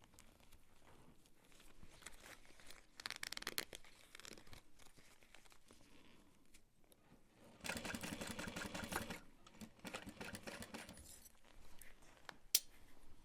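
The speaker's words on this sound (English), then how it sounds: "I'm gonna start up here and sew that at 1/4 inch" A sewing machine runs a quarter-inch seam on a Dreamer backpack in a sustained, steady whir lasting about a second and a half, framed by quieter fabric rustling and handling sounds.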